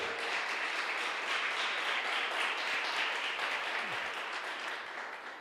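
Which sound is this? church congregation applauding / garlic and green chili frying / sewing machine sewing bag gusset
church congregation applauding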